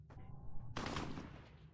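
A battle rifle in a video game cuts loose in a loud burst of gunfire, one sharp crack followed by a dense, reverberant blast that trails off into noise.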